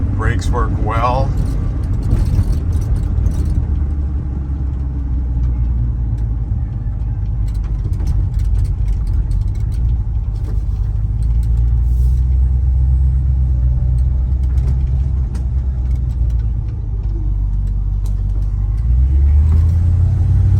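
A 1986 Dodge Ram D150 pickup rolling along with a steady low engine rumble and road drone from inside the cab, the pitch shifting slightly as it changes gears, with someone talking at moments.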